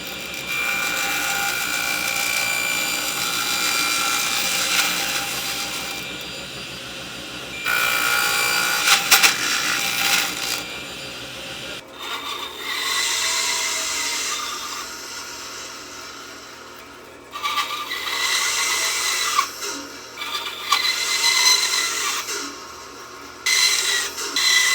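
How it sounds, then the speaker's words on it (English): A wooden dowel rod being hand-sawn into short sections, with steady rasping back-and-forth strokes that pause and restart, close and fairly loud, with no talking. "the first thing we need to do is cut our dowel rod into 1-inch sections"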